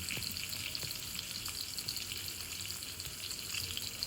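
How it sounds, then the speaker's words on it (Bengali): Potatoes frying in mustard oil for a vegetarian potol-potato korma, a continuous dense hiss of sizzling oil heard close up, steady and unbroken with no voices. "আলুগুলোকে ভেজে নেব বলে আলুগুলোকে দিয়ে দিলাম।"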